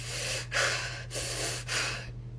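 A voice imitates heavy, angry breathing: three long, loud, forceful breaths in a steady rhythm, close to the microphone over a faint constant hum.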